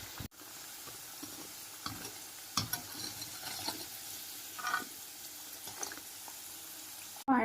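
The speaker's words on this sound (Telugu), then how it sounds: "సో రిమైనింగ్ కూడా అన్నీ ఇలానే ఫ్రై చేసుకోవాలి." Chicken nuggets frying in hot oil, a steady soft sizzle with occasional stirring clicks and pops, fairly quiet and close.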